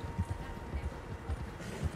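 A horse in Red Dead Redemption 2 clip-clops with an irregular, soft, low thudding, close but fairly quiet under a faint background hum.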